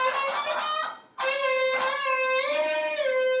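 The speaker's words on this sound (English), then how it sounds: "I bend it down, and then I pull off to 10 of the 2nd string" An electric guitar plays bright, sustained notes from a solo, with a brief break before a string bend slides the pitch and a pull-off settles onto a lower note on the second string.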